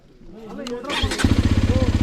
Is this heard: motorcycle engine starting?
yes